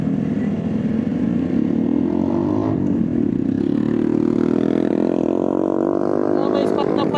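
A motorcycle engine hums steadily and rises in pitch as it passes close by on a mountain road ride, loud and continuous for several seconds.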